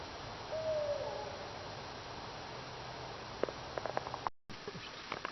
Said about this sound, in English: I think that's a great horned owl.